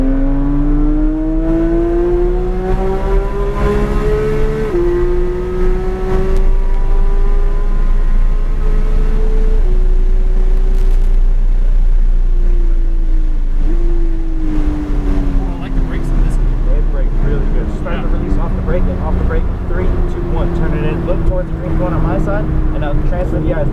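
A Ferrari 488 GTB or Porsche 911 GT3 accelerates on a coned track, its engine note rising steadily in pitch with gear shifts, loud and close under an instructor's voice.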